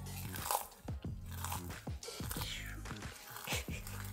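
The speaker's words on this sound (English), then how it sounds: "we're gonna crush up some of these crunchy dried onions" Crunchy dried onions crushed by hand over a sushi roll, producing a rapid series of close, crisp crackles and crunches, with faint voices in the background.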